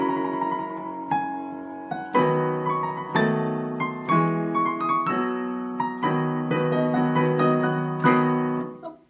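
An opera soprano sings the triumphant closing phrases of an aria from Hamlet, full-voiced sustained notes over rich orchestral accompaniment that swell in repeated accented chords toward a final loud peak, with no talking.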